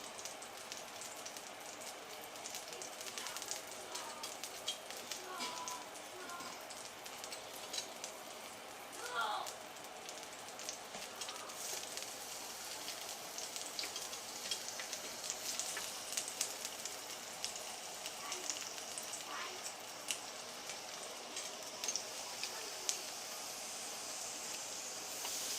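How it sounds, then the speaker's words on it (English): Seasoned lamb chops laid on a hot grill give a faint, continuous hiss and crackle, with someone talking over it now and then. "We'll take our seasoned lamb chops, start to lay them down."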